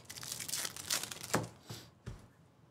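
A foil pack of 2024 Topps Pro Debut baseball cards is ripped open close up, with crinkly tearing bursts and a few sharp final rips, no talking.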